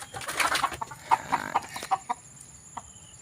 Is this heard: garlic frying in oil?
no